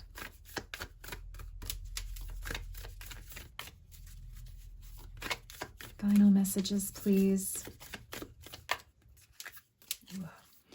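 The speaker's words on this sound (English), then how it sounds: "These cards are a little harder to shuffle because the edges are all like wavy and stuff" Tarot cards with wavy edges being shuffled by hand, producing a rapid, uneven run of crisp papery clicks and riffles close up, with a voice speaking briefly partway through.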